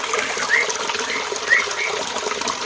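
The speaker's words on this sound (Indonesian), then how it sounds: "buat yang air terjun kedua seperti yang ini" Water runs steadily down a small man-made garden waterfall, a continuous close splashing rush with a few faint chirps above it.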